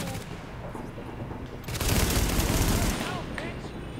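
Rapid gunfire from Tom Clancy's The Division on PS4 starts after a quieter stretch as a dense, loud burst of automatic shots, holds for about a second, then falls back to quieter game ambience.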